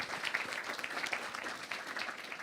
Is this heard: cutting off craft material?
no